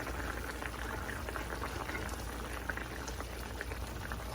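Rice boiling in a pot on the stove, a steady soft bubbling and simmering hiss that continues evenly throughout, close but quiet and without any voices.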